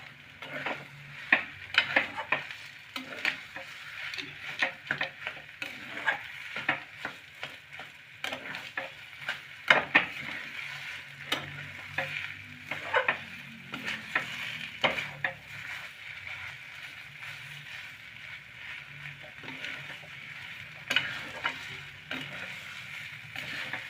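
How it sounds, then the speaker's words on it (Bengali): A vegetable chop mixture of winter vegetables being stirred and fried in a pan over raised heat, with a continuous sizzle broken by repeated scraping and clinking of a spatula against the pan in an irregular rhythm. "এবার আমি এগুলোকে ভালো করে মিক্সড করে নেবো এবং একটু টাইট টাইট করে নেবো"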